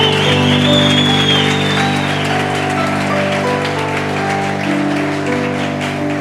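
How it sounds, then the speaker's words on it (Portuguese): A church congregation claps in a steady, dense patter, heard alongside sustained musical tones that carry on beneath the applause for the whole stretch. "Se é para aplaudir o Senhor, aplauda,"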